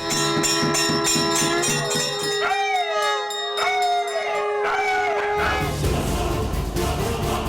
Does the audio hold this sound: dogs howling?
yes